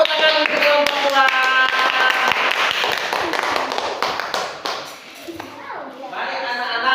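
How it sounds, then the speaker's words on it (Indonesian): Schoolchildren in a classroom clap for a group after its presentation, a burst of scattered hand claps mixed with children's voices and chatter, thinning out and fading toward the end. "Tepuk tangan untuk kelompok 2."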